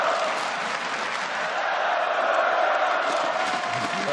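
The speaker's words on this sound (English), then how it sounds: "You can hear the crowd there" A large esports arena crowd at a third-place match roars continuously, with loud, dense cheering, applause and chanting holding steady throughout.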